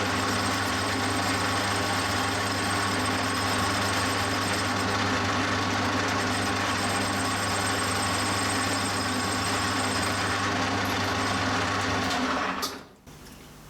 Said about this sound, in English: we're just going to machine this back now to the correct length